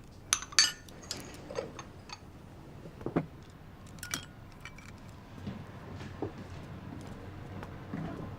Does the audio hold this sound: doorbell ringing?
no